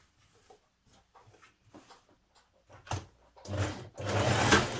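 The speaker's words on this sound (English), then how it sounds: "Now you're going to stitch your side seam, starting from the underarm" A sewing machine stitches a side seam on a summer top, starting with short hesitant bursts of stitching and then running into a louder, steadier stretch toward the end.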